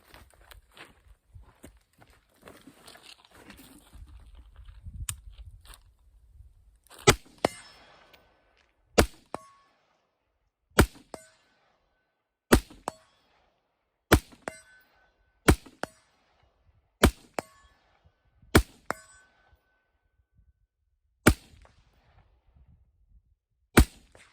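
Rifle shots fired at distance through a Sig Sauer Tango MSR optic ring out as a dozen sharp, evenly spaced cracks, each followed by a faint metallic ping, with quiet stretches between and light handling noise early on.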